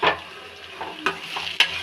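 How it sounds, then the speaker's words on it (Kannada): Masala frying in a pan for radish sambar while being stirred, giving a steady soft sizzle broken by a few sharper scraping strokes, close and with no talking. "2 ರಿಂದ 3 ನಿಮಿಷಗಳ ಕಾಲ ಇದನ್ನು ಚೆನ್ನಾಗಿ ಫ್ರೈ ಮಾಡ್ಕೊಳ್ಳಿ"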